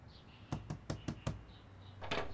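Five sharp knocks on a door in a quick, even series, followed by a brief louder thud, with quiet room tone around them.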